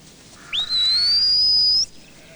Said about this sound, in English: One long whistle